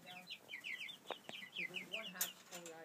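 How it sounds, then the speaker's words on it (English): A pair of roosters cluck and chatter close by in quick repeated bursts, with a few louder calls mixed in over a quiet farmyard background. "And we have some roosters."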